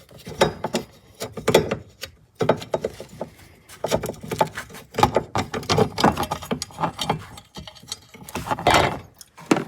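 Ratchet wrench loosening and removing two 10 mm bolts from a protector on the manual fuel pump of a 2008 Honda CR-V 2.2 i-CTDi diesel, heard as close, busy bursts of clicking and metallic ratcheting with brief pauses between.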